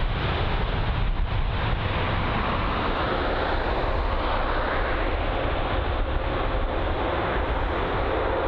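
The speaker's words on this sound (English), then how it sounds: "So here's the A380, so lined up for a 27 right approach." An Airbus A380 on final approach to Heathrow runway 27 right gives a steady, loud broadband engine roar mixed with wind noise, holding constant throughout with no talk.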